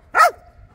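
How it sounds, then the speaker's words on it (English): A Belgian Malinois lets out a single sharp, loud bark close by in a car park, followed by quiet. "Doesn't stop bloody barking."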